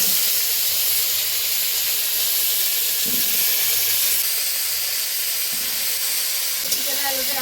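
Potatoes for a chicken curry fry in a pan, filling the whole stretch with a loud, steady hiss and sizzle, with a few faint low knocks beneath and no voices.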